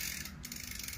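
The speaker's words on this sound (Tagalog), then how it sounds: "Yan po yung tunog ng kanyang hub." A bicycle rear hub's freewheel ratchet on a newly built bike gives a quick, fairly quiet run of fine, even mechanical clicks lasting about a second.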